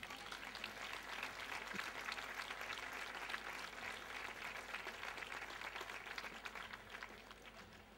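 Warm, steady applause from an audience at an honours ceremony in Valdepeñas, greeting Emilio Ruiz Parra, a favourite son of the city, continuous and even, tapering slightly at the end.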